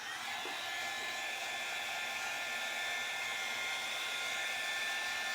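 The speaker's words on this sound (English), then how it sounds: "put my dryer on it for a minute." Hair dryer blowing steadily on a gray-painted craft project, a constant whooshing whine of even loudness from start to finish with no talking.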